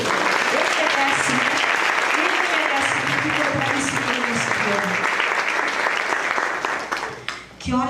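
Sustained applause from a sizable crowd at a women's church retreat, dense and steady clapping throughout, with voices mixed in and the clapping thinning out toward the end.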